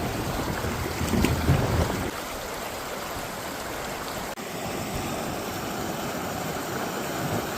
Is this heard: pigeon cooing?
no